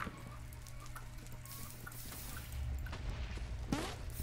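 A chicken in the video game Dynaball clucks over a steady game background, with faint repeated calls across the clip and a sharper squawk near the end.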